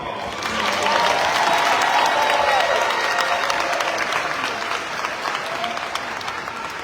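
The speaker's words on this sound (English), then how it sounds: "Let's give another round of applause." A full round of applause from a graduation audience, a dense steady patter of many hands clapping that swells early and holds, with faint voices mixed in near the end.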